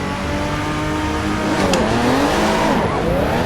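A Porsche 911 Turbo engine in the racing game Assetto Corsa EVO revs and climbs through the gears, loud and close, with a brief tire squeal partway through.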